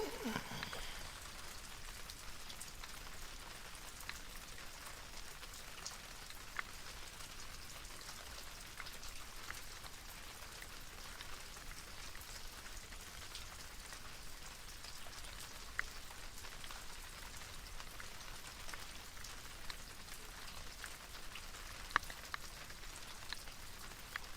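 Rain falling outdoors on a day of wind and high tide, a steady, even patter of drops that continues without pause, with a few sharper drips standing out now and then.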